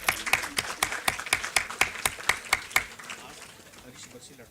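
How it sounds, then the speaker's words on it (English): Audience at the RASAYAN-23 international chemistry symposium in the Saurashtra University auditorium claps in sparse, rhythmic beats that fade out after a few seconds, with the hall falling quieter. "Let's give a huge round of applause."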